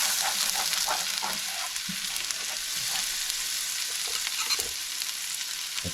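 Fresh green chilies and garlic fry in hot oil for dal, giving a continuous crackling sizzle with occasional stirring scrapes, close and fairly loud.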